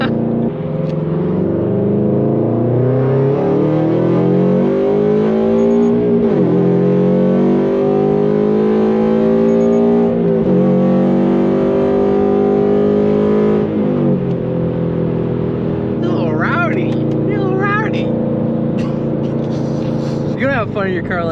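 A Subaru BRZ running an E85 flex fuel tune accelerates hard through the gears, engine pitch climbing steadily, dropping at each shift and rising again, loud and close from inside the cabin, with a few voices underneath near the end.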